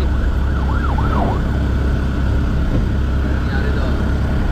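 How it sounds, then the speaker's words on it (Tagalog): An ambulance siren wails, rising and falling a few times over loud, rumbling traffic noise, fading toward the end. "Yan, may ambulansya. Emergency."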